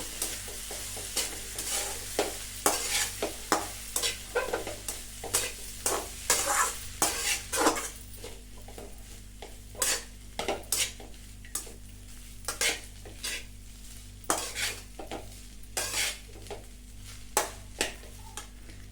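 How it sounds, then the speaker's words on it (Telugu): Cooked rice is mixed with ivy gourd curry in a pan on a lit stove, a utensil scraping and clinking in a steady rhythm of strokes over a soft frying sizzle, with no talk. "రైస్ వేసేసుకొని బాగా మిక్స్ చేసుకోవాలండి. స్టవ్ మాత్రం ఆన్లోనే ఉండాలండి, ఆఫ్ చేయకూడదు."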